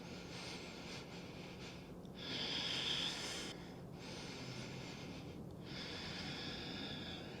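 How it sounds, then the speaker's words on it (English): Slow, deep breaths drawn in and out through the nose during a yoga pose, airy and close with audible pauses between each cycle, no talking. "Breathe."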